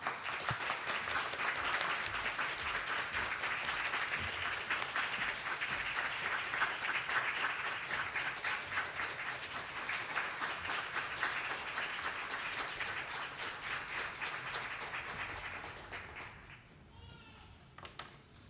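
A seated audience at the Toyama Glass Art Museum gives sustained, even applause to welcome a lecturer from the Corning Museum of Glass at a special commemorative talk. The clapping is soft and distant and fades out near the end.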